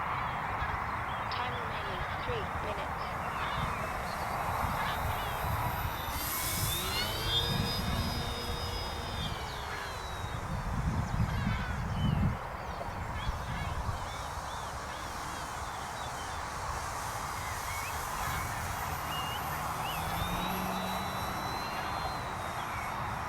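An OMP-Hobby Bighorn RC plane, 1.25 m and running on 3S, whines at full throttle, a steady droning buzz heard from a distance over wind, with someone talking throughout.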